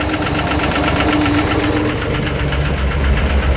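A Spyder car engine with a new alternator and bearings idles loudly and close, a steady rough mechanical rumble with rapid knocking pulses throughout, no voices.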